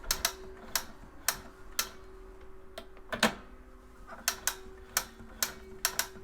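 An old Husqvarna sewing machine, recently serviced, ticks along slowly while sewing a full zigzag, with sharp, evenly spaced mechanical clicks over a faint steady whir, close and quiet.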